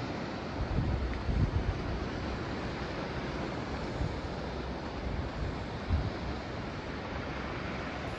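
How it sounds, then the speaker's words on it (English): Sea waves washing along the Scottish coast with steady wind noise across the microphone, a continuous broad rush with faint surges, distant and quiet, no voices. "The waves is leaving."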